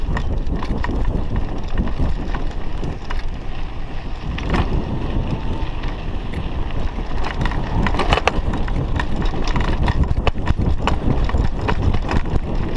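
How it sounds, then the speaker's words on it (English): A bicycle's rear shock absorber rattles and knocks while riding on a rural road, irregular clunks and ticks over steady rolling and wind rumble, close and fairly loud. "in case you're wondering what that noise is, it's the R shock, so the rear shock"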